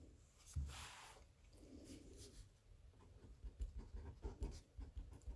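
A Pilot Hi-Tec-C 0.4 mm gel pen writes on MD paper, making faint, soft scratching strokes in short irregular bursts in a quiet room.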